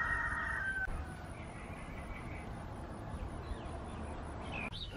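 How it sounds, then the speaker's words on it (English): A rooster crows once in the open air of Port Vila, Vanuatu, a short faint call at the start over steady outdoor ambience and insect-like hiss. "And a chicken there."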